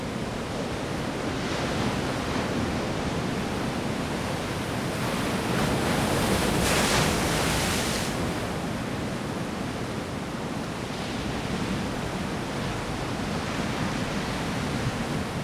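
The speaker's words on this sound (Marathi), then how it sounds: "समुद्राची गाज ऐकू येते" Sea waves break on a beach near Ratnagiri at sunset in a continuous roaring wash, swelling briefly in the middle, with wind in the background and no voices.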